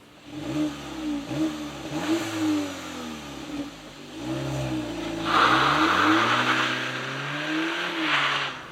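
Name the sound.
VW Polo GTI 2022 facelift accelerating, engine revving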